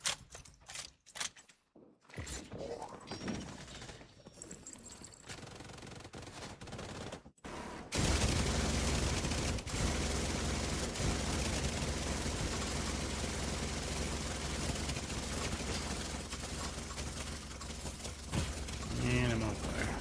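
Big Alejandro machine gun in The Division 2 firing in a long, dense, continuous stream at about 1100 rounds per minute, loud and steady, with game noise around it.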